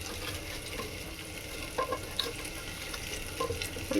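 Hot oil sizzles in a cooking pot, heated for a chicken and potato curry, with a steady, even frying hiss and a few faint clinks. No one speaks.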